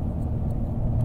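A Nissan Skyline GT-R R34 cruises at night on the Shuto Expressway, its steady low engine rumble and road drone continuous and close, with no talking.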